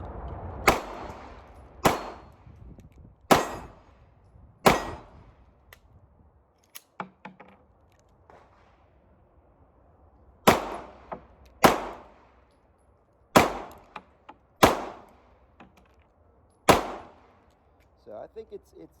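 Eleven sharp, loud reports from a 3D-printed FMDA DD17.2 pistol, fired in two irregular strings with a short lull between them and a few faint clicks and rustles.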